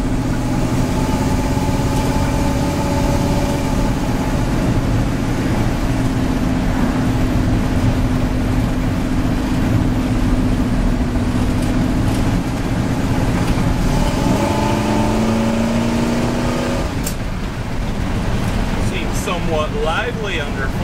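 A 1955 Chevy truck engine running steadily while cruising, a loud continuous drone that shifts pitch partway through, with road and wind noise.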